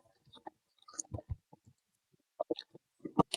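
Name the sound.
paper packaging rustling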